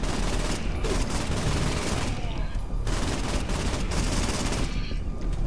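Rapid gunfire fills the Saints Row 4 video game scene, a dense, loud, continuous barrage of shots and impacts with barely any gaps.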